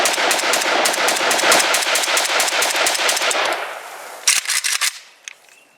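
A Romanian AES-10B AK rifle empties its first magazine in a long, loud, close string of rapid shots that tapers off, ending with a short final burst and a few mechanical clacks.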